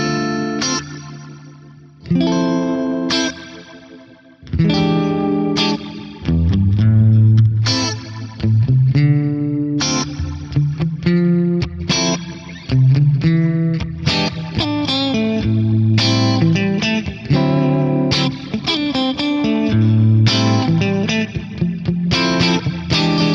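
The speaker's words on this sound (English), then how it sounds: "Let's just hear a rotary reverb." An electric guitar plays chords and single notes through a swirling, wobbling rotary-speaker reverb effect, sustained and fairly loud throughout.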